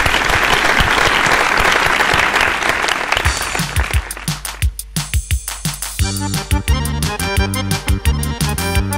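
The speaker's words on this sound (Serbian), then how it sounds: "Jedan aplauz za njih." A studio audience on a television talk show breaks into loud, dense applause that thins into scattered claps after a few seconds, as band music starts up and carries on beneath the last claps.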